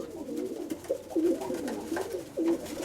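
Pigeons in a loft coo softly in repeated low, rolling calls close by, several overlapping throughout with no talk.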